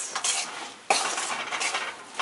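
A spoon scrapes and clatters around a pot of Punjabi kadhi in a series of close, fairly quiet stirring strokes, with a sharper knock against the metal partway through.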